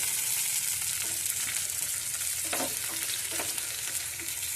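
Onion pieces fried until reddish in oil, with curry leaves and green chillies added, sizzle steadily up close while a spatula stirs through them in a few scraping strokes; no voices, just the continuous hiss of frying in the pan.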